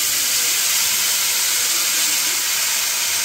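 Ground spice paste dropped into hot oil already tempered with cumin seeds and bay leaf, producing a loud, continuous hissing sizzle that stays steady and close for the whole stretch, with no talking.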